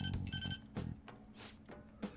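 A phone rings in Persona 5 Royal with a social services call, a bright electronic ringtone in repeated bursts, loud and close, with no talk over it.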